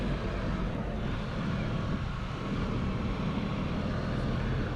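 A 2018 Can-Am Spyder RT Limited three-wheeled motorcycle underway on a test drive makes a steady, loud roar of engine and rushing wind that stays even throughout with no talking.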